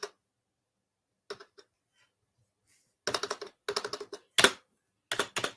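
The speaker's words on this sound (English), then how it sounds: "Let me type this." Typing on a computer keyboard while configuring an ASA firewall: a few isolated key clicks, then quick close-up bursts of keystrokes in uneven clusters separated by short pauses, with no talking.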